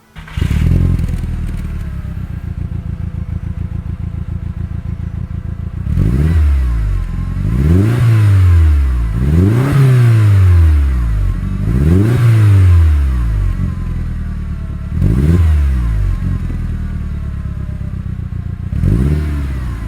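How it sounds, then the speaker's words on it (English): An Audi TT with a MagnaFlow Touring catback exhaust revs in several sharp bursts after a steady idle, each blip rising and falling quickly, loud and close with no talking. "I'll show you guys a clip right now what it sounded like with just the MagnaFlow Touring Catback exhaust."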